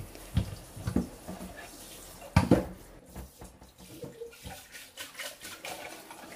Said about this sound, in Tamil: கழுவுனதுக்கப்புறமா சிங்கையும் அதே மாதிரி நல்லா ஒரு தடவை அந்த மெட்டல் ஸ்க்ரப்பர் போட்டு தேய்ச்சி விட்டுறது